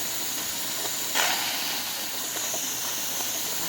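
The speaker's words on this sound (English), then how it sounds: "we now have a steady stream of steam coming out the top of the canner" Steam hisses steadily from the lid vent of a pressure canner warming up while home-canning pinto beans, a continuous close airy rush with a brief louder surge partway through.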